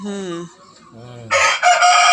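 A fighting-breed rooster crows loudly and close by in one long call, with a falling, drawn-out tail. A harsher, raspy burst of fowl calling follows at the end.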